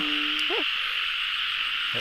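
Frogs call at night in a rice field: a single rising croak stands out over a constant high insect drone, with another call starting at the very end.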